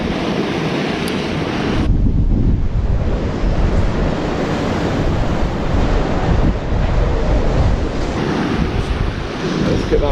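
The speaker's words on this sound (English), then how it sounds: "As you can see, a lot of swell rolling in." Sea swell and surf waves on a windy shore while bass lure fishing, with a loud continuous rush of breaking water and heavy wind buffeting the microphone throughout, and no talk.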